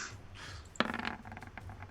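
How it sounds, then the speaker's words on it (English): Dice rolled during a tabletop role-playing game session clatter and tumble briefly across a surface, a quick sharp click followed by a few lighter rattles, faint and close. "Want me to roll the dice?"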